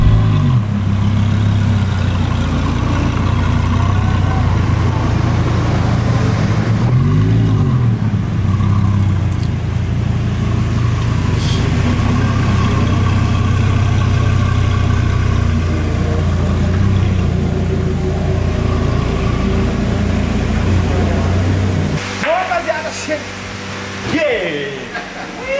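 A new Audi R8 with its exhaust stripped to a straight pipe runs loudly and continuously close by, with a steady engine roar and swelling revs. People talk over it, and the engine drops away near the end.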